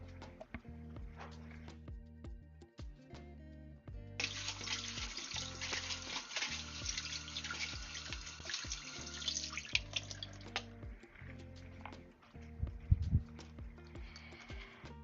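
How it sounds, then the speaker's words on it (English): Water runs from a tap as a plant pot is rinsed under it, a steady rushing splash for several seconds that rises above soft background music and then cuts off. "I'm gonna rinse this pot out real quick."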